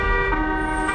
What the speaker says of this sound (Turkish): Yeni araç skinlerinin yanı sıra değiştirebileceğiniz korna da var artık.